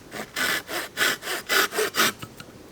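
A grass tree spike is hand-sawn into lengths at a bushcraft camp, about eight rhythmic rasping back-and-forth strokes, close and fairly loud, ending in a few lighter scrapes.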